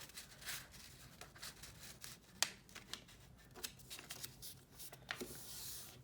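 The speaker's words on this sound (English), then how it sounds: "So I'm folding that piece of paper in half." A sheet of paper is folded in half at close range, with soft crinkling, sliding and a few sharper crease snaps, quiet and without talk.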